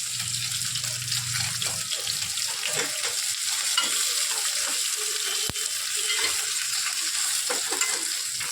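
Pabda fish fry in a wok with a dense, continuous sizzle of hot oil, close and steady across the whole stretch, a faint low hum at the start and one sharp click midway.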